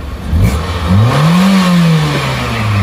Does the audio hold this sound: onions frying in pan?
no